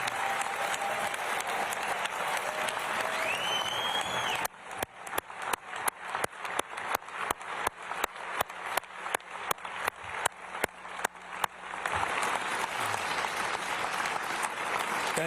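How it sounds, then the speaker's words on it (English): A large audience claps loudly in steady, dense applause during Governor Baker's final State of the Commonwealth address, with a stretch of sharper, individually distinct claps in the middle before the applause fills in again. "give those folks the round of applause that they so richly deserve"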